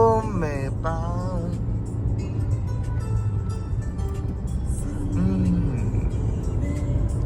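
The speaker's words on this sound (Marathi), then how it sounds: "इकडे आम्ही गाडी चालवतोय" A car drives along a road at sunrise with a steady engine and road rumble throughout, while a song plays inside and voices sing along over the drone.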